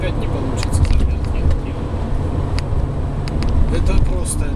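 Steady road traffic noise from passing cars, a continuous broadband rumble with a few brief higher whooshes, heard throughout at a fairly loud level with no clear talk.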